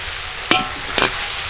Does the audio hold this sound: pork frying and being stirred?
yes